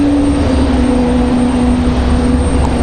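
A Frontier Airlines jet painted in the America's Greenest livery moves at Raleigh-Durham International Airport, giving a steady, loud engine roar with a sustained low hum, constant throughout and no voices.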